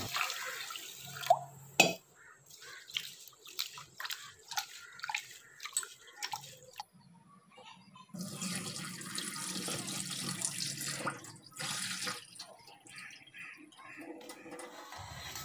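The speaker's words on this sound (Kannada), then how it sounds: "ಈ ಟೈಮ್ನಲ್ಲಿ ನಾನು ಅಕ್ಕಿಯನ್ನು ಕೂಡ ಚೆನ್ನಾಗಿ ವಾಶ್ ಮಾಡ್ಕೋತೀನಿ." Rice is washed in water, with intermittent swishing and splashing and a stretch of running water, all fairly quiet and close.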